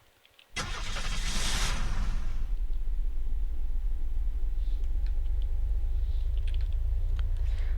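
Car engine starting in the zombie survival game Unturned, a sharp crank burst that catches into a steady idling rumble, close and alone.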